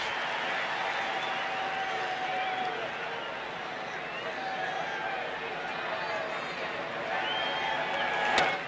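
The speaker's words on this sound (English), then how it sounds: "Hear this crowd every pitch." A baseball stadium crowd roars and murmurs steadily during a pitch, a dense, distant wash of voices that swells slightly toward the end, heard under a broadcaster's talk.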